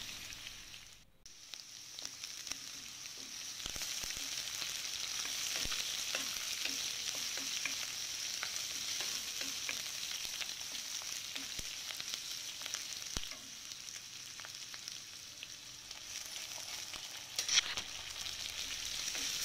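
Onion and seeds fry in a pan, making a steady, moderate sizzle with faint crackles and occasional soft stirring scrapes, continuous and close throughout.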